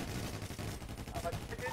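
Gunfire in a GTA roleplay match, a player shooting at an enemy on an island. A short, low, rumbling stretch of rapid shots plays under faint background noise.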